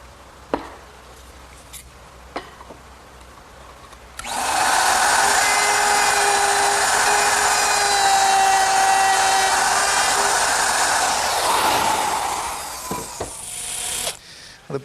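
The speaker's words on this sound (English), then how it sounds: "The brass screws for these hinges are really nice, but they're soft, so I'm taking the precaution of pre-drilling the holes" A drill pre-drills holes for soft brass hinge screws on a Shaker wall clock case, starting after a few light knocks and whining loud and steady for about eight seconds before spinning down.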